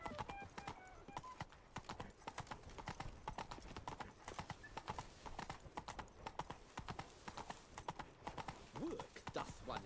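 Roach, the horse in The Witcher video game, moves with a quiet, rhythmic clip-clop of hooves that runs steadily throughout, with a brief whinny-like sound near the end.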